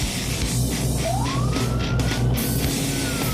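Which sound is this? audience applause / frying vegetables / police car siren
police car siren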